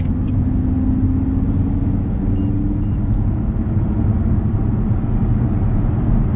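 An Audi R8 with a new aftermarket exhaust, valves closed, rumbles steadily with a deep, muffled exhaust drone, loud and close, holding a fairly even pitch throughout.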